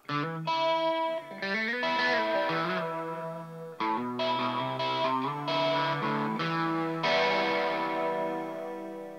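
A Variax electric guitar plays sustained chords and notes for a late-60s sound, thickened by a warbling chorus, with repeating analog tape delay echoes and a reverb tail filling the space.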